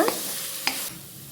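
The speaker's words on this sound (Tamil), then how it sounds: "இதை நல்லா வதக்கி விட்டுக்கலாம். வெங்காயம் நல்லா வதங்கணும்." Onions sizzle quietly in a pan as a utensil scrapes and stirs them twice. The frying hiss drops off toward the end.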